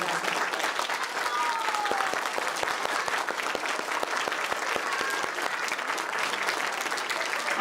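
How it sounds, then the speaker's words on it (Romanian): An audience claps for a children's performance at a holiday show, a dense, steady round of applause from a full room with no voices over it. "vreau să-i mai aplaudați o dată"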